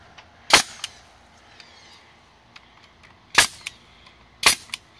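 A high-pressure air staple gun fires staples during fence building, giving three loud, sharp pneumatic cracks spaced a few seconds apart, with faint clicks in between.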